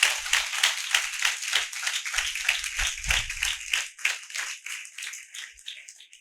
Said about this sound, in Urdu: آئیے زوردار تالیاں یسوع کے لیے بجائیں